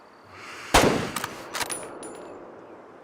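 A single rifle shot cracks loudly in Way of the Hunter 2 on a target range, followed by a couple of sharper metallic impacts and fading echoes against a quiet background.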